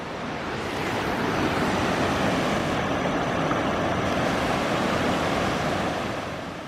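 A small cascade on the French River in Minnesota pours in a steady, dense rush of falling water that holds close and even throughout, with no voices.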